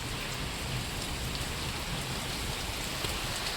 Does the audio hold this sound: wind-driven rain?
yes